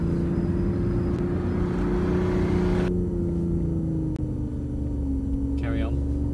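A 2015 BMW i8 accelerates through the gears on a circuit at Eelmoor in Aldershot, a steady, close engine drone with a clear shift partway through, while people talk inside the car.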